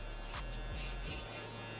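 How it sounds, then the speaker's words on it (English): Electric shaver running on hair during a low taper haircut on thin hair, a steady close buzz with brief dips as the clipper moves through the hair, no talk. "we're gonna go ahead and grab our shaver"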